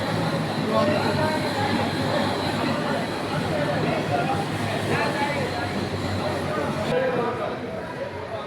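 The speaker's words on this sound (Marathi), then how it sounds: "ट्रेन कशी असते पहा बघा आतून ट्रेन कशी" A passenger train rolls along at steady speed, heard from inside a carriage on a return trip, a continuous rumble with rattling wheels and faint chatter throughout, the noise thinning slightly near the end.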